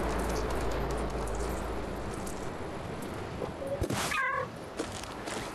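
A cat meows a few times in the video game Stray on PS5, the calls rising briefly over a steady wash of rain-like ambient noise with no talking.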